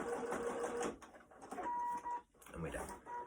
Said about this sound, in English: A back stitch